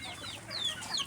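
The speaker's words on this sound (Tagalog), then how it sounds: "Maraming manok." Chickens cluck softly at a distance on a farmyard, with a few brief, faint calls over quiet ambient noise.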